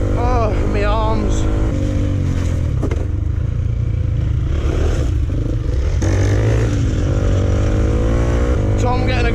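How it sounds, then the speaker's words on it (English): Off-road motorcycle engine revving hard with aggressive throttle on a green lane on Salisbury Plain, rising and falling in pitch close by, with rattling clatter and people talking over it. "getting aggressive with the throttle there"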